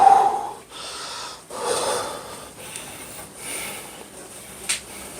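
Heavy, close breathing after a workout before the pre-dawn meal: a run of loud, ragged panting breaths and snorting gasps that rise and fall unevenly, with no talk.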